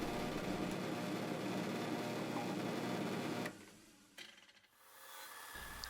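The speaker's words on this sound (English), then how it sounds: "next I'm gonna drill a pilot hole for the eye sockets" A steady mechanical whir of a drill press boring a pilot hole into dense leopard wood, then the motor stops and spins down, followed by a quieter hum.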